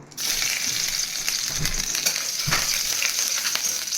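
Chopped garlic with a few pieces of chopped chili hits hot ghee, breaking into a loud, dense sizzle that starts abruptly and holds steady and close for several seconds, with no voices.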